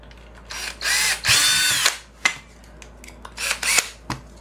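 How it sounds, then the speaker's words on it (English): Power drill boring a hole through the plastic battery box of a Polaroid 600 camera, several close, loud bursts of whirring with short pauses between them, no voices. "It's just literally drilling a hole."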